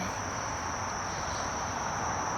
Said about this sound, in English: Golly, days, there's so many bees in here.